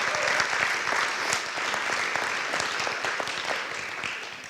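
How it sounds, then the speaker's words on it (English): Audience at a school district state-of-the-district event gives sustained applause, an even wash of many hands clapping, moderately distant and fading slightly toward the end. "let's give them one big round of applause."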